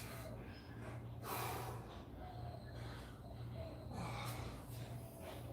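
Deep, slow inhales and exhales during an at-home workout, several audible breaths rising and falling at close range, fairly faint, with no speech.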